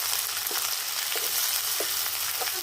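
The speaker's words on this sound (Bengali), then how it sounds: "এগুলো সব এখন এখানে দিয়ে দেবো খুব ভালো করে কষে নিচ্ছি" Garlic, ginger and cumin paste sautéing in a pan for a Bangladeshi egg curry, a continuous bright sizzle broken by soft scrapes of stirring at intervals.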